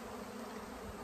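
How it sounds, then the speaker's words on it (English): Dense swarm of honeybees around a Flow hive outdoors near pine trees, a continuous loud even buzzing with no break. "Can you see all those bees? That is insane. They're all swarming for some reason."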